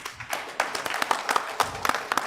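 Applause from an audience at a corporate MoU signing ceremony for a healthcare partnership, a brief spell of scattered hand claps building up at moderate distance, with no voices over it.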